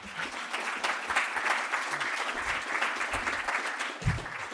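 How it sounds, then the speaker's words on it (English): An audience at a disaster legal services forum applauds after a speech, a sustained round of clapping with a few brief low murmurs or voices poking through underneath. "I got 2 rounds of applause."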